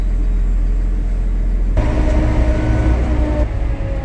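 A Kubota power-shift tractor drives along a road in traffic, its engine giving a loud, steady close-up rumble that shifts to a rougher, busier tone partway through.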